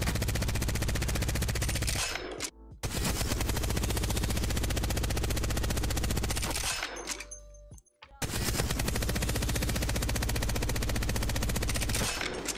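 Long sustained streams of rapid automatic fire from a stationary weapon during recoil practice in Apex Legends, two brief pauses separating three unbroken, loud bursts.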